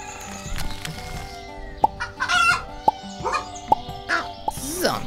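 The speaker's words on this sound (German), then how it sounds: "Die Hühner und Gänse sind schon mal glücklich." Toy-farm chickens and geese being fed, with a rooster crowing and hens clucking in a busy mix of sharp calls and bursts over a steady background, some bird sounds close and loud.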